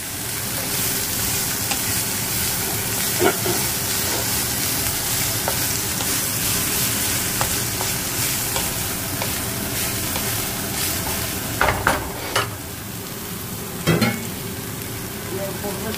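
Bitter gourd and eggplant slices frying in a covered pan on low heat, a loud, steady sizzle and crackle with a few louder pops and a clink near the end.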